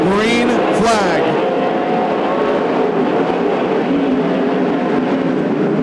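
Western sprint cars at Coos Bay Speedway roar out of corner four on a green flag, a dense, loud wall of racing engines with rising whines at first, and an announcer calling the race throughout.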